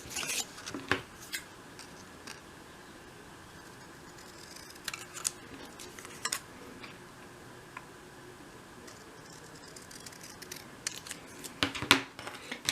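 Scissors or a craft blade cutting out a paper part for a 1/12 scale model, faint snips and scrapes spread irregularly across the stretch with a few sharper clicks, close by and quiet, no talking.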